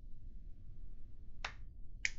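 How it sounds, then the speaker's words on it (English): Two sharp, faint hand claps land about half a second apart, close but quiet over a low background hum, with no talk. "I don't know if you can hear this, but I'm clapping."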